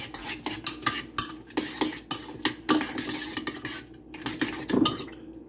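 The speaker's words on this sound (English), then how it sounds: "And you're going to stir." A utensil stirs grinder salad dressing in a small bowl, giving quick repeated clinks and scrapes against the sides in an uneven rhythm, close and fairly loud with no talking.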